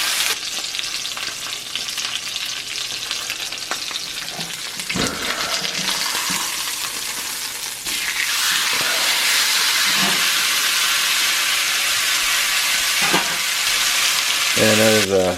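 A thick ribeye steak sears in a cast iron pan, with a loud, steady hiss that swells partway through, along with occasional scrapes and knocks and faint talk in the background.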